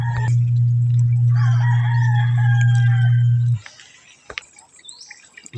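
A rooster crows loudly and close by in a farmyard, one long sustained call that stops abruptly and is followed by faint clucks and scattered small noises.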